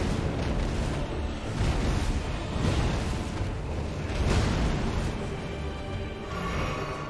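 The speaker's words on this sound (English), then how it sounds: "Explosion!" Explosion in the video game Elden Ring, a dense roaring boom that rumbles and surges for several seconds, loud and sustained with swelling bursts and no talking over it.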